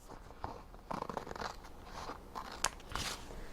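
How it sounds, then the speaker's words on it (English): Scissors or a blade cut through a piece of craft vinyl with a series of crisp, close crunching snips and crackles, irregular and fairly quiet, with no one talking. "I'm going to cut"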